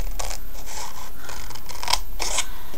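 Scissors cutting through paper for a photo album, a run of close, loud rasping snips and scrapes in uneven bursts with no speech.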